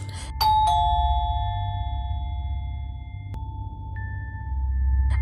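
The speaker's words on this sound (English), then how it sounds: "a neighbor came from side house and rang the calling bell" A neighbor rings a house doorbell in the afternoon, giving a two-tone electronic chime whose notes ring out and decay, then a second higher tone sounds over a steady low hum.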